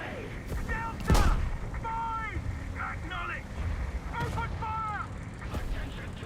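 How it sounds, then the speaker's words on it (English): Artillery strike explosions in War Thunder, a few sharp distant booms scattered among wind-like rumble, with a voice speaking in short bursts between them. "Artillery strike!"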